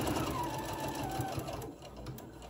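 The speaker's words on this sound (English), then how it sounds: "Bring it down here to the point and just keep sewing." A sewing machine stitching elastic onto a fabric face mask runs in a steady, close, continuous whirring hum with fine rapid needle ticking, easing slightly near the end.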